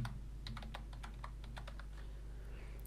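Typing on a computer keyboard, a run of about a dozen quick, light key clicks in an irregular rhythm over a low steady hum, with no talking.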